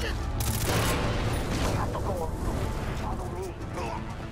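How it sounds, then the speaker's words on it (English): Rapid AK rifle fire in the video game Far Cry 3, a dense, loud fusillade of shots blending into a continuous roar, with a player's voice talking over it. "Shoot him, shoot him, buddy. You have an AK and point blank."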